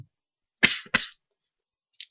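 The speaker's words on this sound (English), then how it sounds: "just keep coughing." A man with a lingering cough that won't clear gives two quick, harsh coughs close to the mic, then a faint short sound after a pause.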